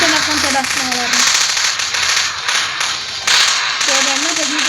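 Rapid bursts of SMG fire in a Roblox zombie survival arena, sharp crackling shots in quick strings, mixed with a talking voice and tonal game sounds.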